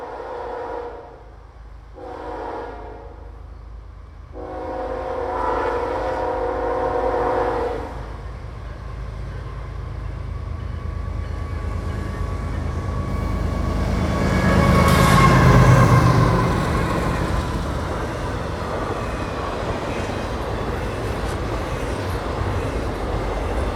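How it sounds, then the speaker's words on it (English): A freight train, symbol 26E, runs along the Harrisburg Line in winter. Several loud horn blasts sound near the start, then the train rumbles steadily past up close, swelling in a roaring peak of wheel and car noise and holding a sustained rolling rumble afterward. "26E is usually out of Rutherford in the morning, making a prime-time run across the Harrisburg Line"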